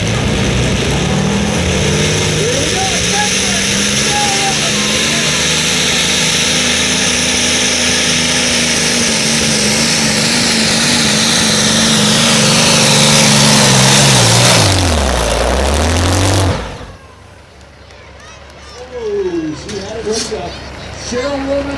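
Modified tractor engine at a county fair tractor pull in Perham, Minnesota, revving in a loud, continuous roar that rises and dips in pitch before cutting off sharply, leaving quieter crowd noise and voices.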